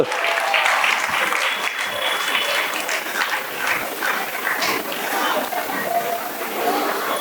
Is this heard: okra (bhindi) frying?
no